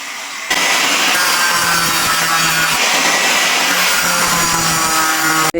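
A coconut shell is cut by hand with a saw along a marked line, giving a steady, loud, continuous rasping scrape that runs for several seconds without pause.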